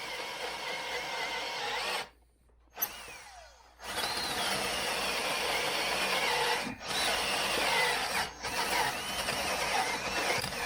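Hart cordless drill boring a hole into a 3/8-inch mild steel plate with a sharp bit, a loud steady motor whine broken by two brief pauses and a couple of short dips as the bit bites, nearby and without speech.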